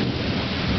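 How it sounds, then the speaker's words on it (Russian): Heavy rain pours down while thunder rumbles during a night tornado near Houston, making a loud, steady, dense roar with no gaps. "Торнадо и дождь сильный."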